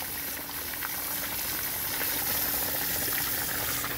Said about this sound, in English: look at the force of water coming out of that.